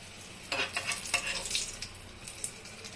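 Eggplant pieces sizzle in hot oil in a pan with bursts of crackling and scraping as they are stirred and lifted, fairly close, then the spitting fades to a quieter hiss.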